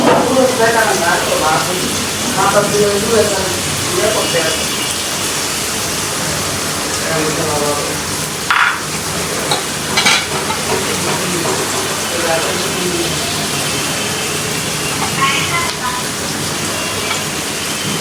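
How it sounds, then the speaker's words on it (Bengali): Chopped garlic sizzling in a hot pan, a steady loud hiss and crackle filling the whole clip, with a voice talking over it near the start and a few brief clatters along the way. "আর এখানে হচ্ছে রসুন কুচি রসুন কুচিও দিয়ে দিলাম"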